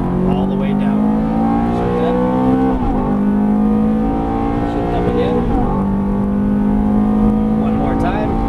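A Ferrari F430 engine revs hard on a race track, a loud, close, steady howl that climbs in pitch through repeated gear pulls, with a short dip between each shift.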